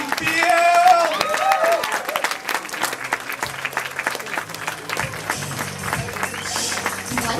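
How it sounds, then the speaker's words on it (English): Applause and clapping from a comedy club audience as a comedian is introduced and takes the stage in Sacramento, a dense broadband patter that stays steady throughout while a voice speaks over the start. "You guys start clapping right now."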